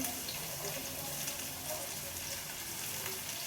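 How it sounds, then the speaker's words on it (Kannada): Garlic and ginger fry in hot oil in a pan, giving a steady, close hiss and sizzle with no pauses, ending in a small clatter. "ಫಸ್ಟ್ ಸ್ವಲ್ಪ ಬಾಣಲಿಗೆ ಎಣ್ಣೆ ಹಾಕ್ಕೊಂಡು ಬೆಳ್ಳುಳ್ಳಿ, ಶುಂಠಿ"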